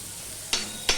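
Onion, garlic and green chili fry in a pan with a soft steady sizzle, broken by two quick scraping stirs of a utensil close by.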